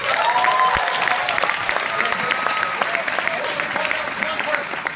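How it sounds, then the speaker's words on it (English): Applause from a leadership conference audience, steady and dense throughout, with a few voices and whoops mixed into the clapping. "By the way, give Haley a big round of applause."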